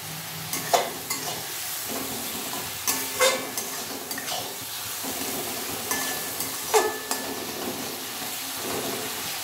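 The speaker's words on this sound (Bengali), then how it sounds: "টমেটোটা ভালোভাবে পেস্ট হয়ে যাওয়ার পর আমি পেঁয়াজটাকে দিলাম।" Onions fry with tomato paste in a pan over a gas flame, a steady close sizzle broken by rhythmic scraping stirs every couple of seconds.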